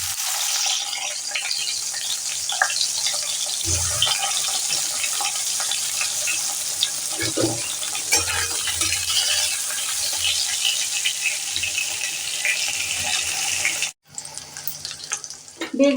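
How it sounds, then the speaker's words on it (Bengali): Brinjal slices fry in hot oil in a pan, giving a steady, bright sizzle that runs almost without a break before cutting off abruptly near the end, with a few faint clinks of handling. "বেগুন ভাজা করে নেব।"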